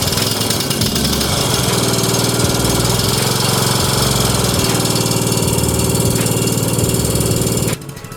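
A Toro Wheel Horse riding lawnmower engine runs steadily and loud, a constant close-up drone with faint knocking, and cuts out abruptly near the end.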